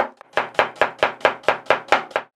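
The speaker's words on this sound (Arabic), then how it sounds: "هلا بدنا نفرمهم طرنشات" Knife chopping onion, tomato and parsley on a cutting board, nine crisp evenly paced strokes after a light initial tap, loud and close.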